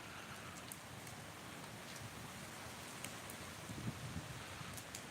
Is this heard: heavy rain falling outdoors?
yes